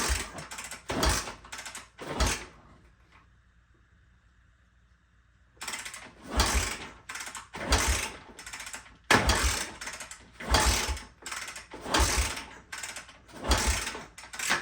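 Repeated heavy mechanical clanks of a 1974 Honda motorcycle being kicked over with the choke pulled and no fuel, in a steady rhythm, with a short pause filled by a faint hum; the engine never catches.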